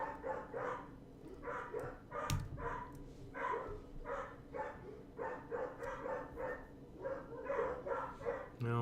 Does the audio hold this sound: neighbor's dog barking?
yes